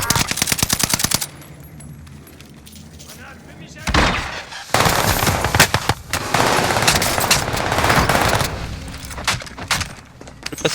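Rapid video game gunfire, with automatic bursts and single shots in dense clusters, comes loud and close from a Rebirth match. Someone talks in French over the shooting.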